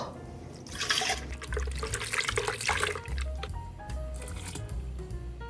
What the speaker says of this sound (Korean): 반컵 남은 물을 지금 부어줄게요.